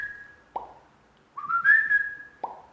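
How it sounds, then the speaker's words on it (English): A thin steady whistle, then a sharp pop, a brief pause, a rising, wavering whistle, and another crisp pop at the end. "Whistles and pops."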